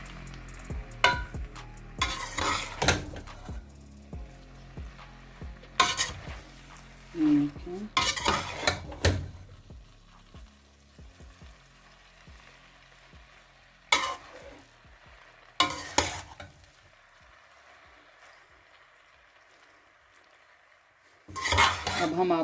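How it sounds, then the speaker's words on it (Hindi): A spoon stirs spaghetti and mixed vegetables in a pan, giving scattered clinks and scrapes against metal with loud bursts and quieter gaps, all close up and without talk. "अब आप एक चम्मच की मदद से इसको अच्छे से मिक्स कर लें।"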